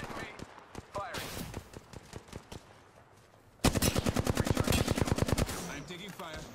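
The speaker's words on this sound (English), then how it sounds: "Dart shots fired and they're hitting me." Seer's darts fire in Apex Legends as rapid bursts of shots, scattered cracks at first, then a loud fast run of evenly spaced shots, with gameplay noise throughout.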